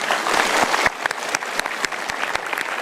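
A studio audience at a motivational talk show claps, loud and thick at first, then thinning into scattered individual claps.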